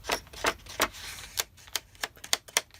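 Thick Archer and Olive journal paper being handled and flipped, a run of crisp rustling swipes and snaps, about ten close, sharp strokes at an irregular pace with no talk.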